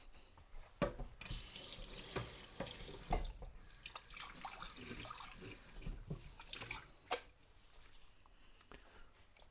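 Running tap water splashes into a sink as a part of a Bialetti Brikka moka pot is rinsed, with clattering handling sounds and an uneven, close flow over several seconds.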